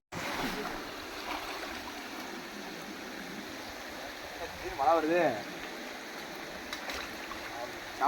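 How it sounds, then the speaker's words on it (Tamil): Rain falling outdoors at an open-air riverside cooking spot makes a continuous broad hiss throughout, with a voice rising briefly over it midway. "மழை வேற பெய்யுது"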